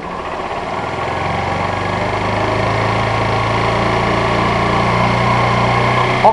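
A Honda CG 125 Fan motorcycle engine with an electrical fault revs up close by, its steady mechanical drone rising gradually and holding loud throughout.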